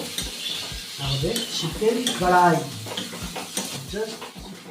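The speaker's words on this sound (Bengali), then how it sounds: "জাস্ট হালকা নাড়িয়ে নেব" A spoon scrapes and stirs chicken curry in a pan, with a soft sizzle and clinks of metal, while a person talks over it.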